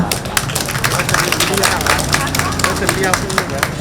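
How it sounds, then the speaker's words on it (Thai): Audience at the Thaniya Japan Days opening ceremony in Bangkok applauds to welcome performers, dense crisp clapping sustained throughout with crowd chatter and voices mixed in. "ขอเสียงปรบมือดังๆ ต้อนรับพวกเขาด้วยค่ะ"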